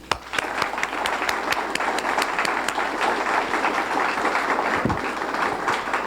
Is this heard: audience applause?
yes